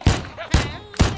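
Gunfire in the VR shooting game Shooty Fruity: three sharp, loud shots spaced about half a second apart, each with a short ringing tail.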